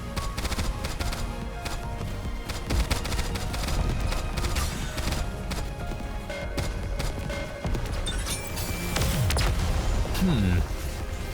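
Rapid, crackling gunfire from the Nikke x Stellar Blade collaboration game, bursts of shots and impacts mixed with in-game voices and effects over a busy soundtrack.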